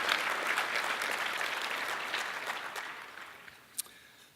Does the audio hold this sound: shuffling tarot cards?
no